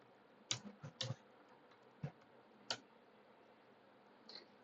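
Quiet computer keyboard typing in a sparse burst: a quick cluster of clicky keystrokes, then a few isolated taps spaced out, close and fairly faint.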